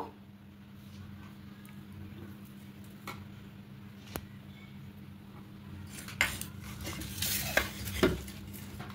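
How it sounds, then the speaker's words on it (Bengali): Chopped carrot, coriander, tomato and chilli are mixed together by hand in a bowl, giving soft, steady stirring and squishing with a few sharper utensil clinks near the end and no talking. "এবার এদিকে যে গাজর কুচি, ধনেপাতা কুচি, টমেটো কুচি, লঙ্কা কুচি আছে, এটা একসঙ্গে মাখিয়ে নেব"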